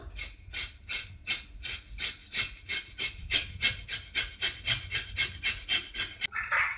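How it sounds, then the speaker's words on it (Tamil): Beetroot being grated on a handheld carrot grater in a home kitchen, a steady run of about sixteen rhythmic rasping strokes, close and fairly loud, with no talking. "இப்போ இந்த மீதி இருக்கிற பீட்ரூட்டை நம்ம வந்துட்டு கேரட் துருவியில துருவிக்கலாம்"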